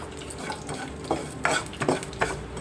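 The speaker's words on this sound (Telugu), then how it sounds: "బాగా వేయించుకోవాలండి, పచ్చివాసన పోయిందాకా." Spices frying in a little oil for ajwain rasam, a soft, low sizzle under a few scraping stirs and light clinks of a spoon against the pan, close by.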